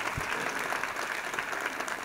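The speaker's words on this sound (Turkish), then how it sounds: "Burada alkış bekliyorum." An audience at a motivational talk applauds, a brief burst of dense clapping that holds steady for about two seconds.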